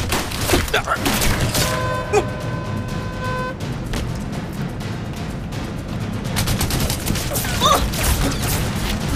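Gunfire fills a battle scene in the Balkan war film The Balkan Line, heard as dense bursts of shots and impacts over loud rumbling action, with a short steady tone partway through and people shouting.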